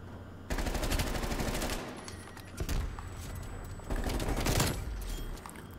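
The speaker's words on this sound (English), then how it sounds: "Hostile sentry turret active." A hostile sentry turret firing in a video game, rapid sustained automatic bursts that start abruptly, ease off briefly, then resume loud and close in several stretches.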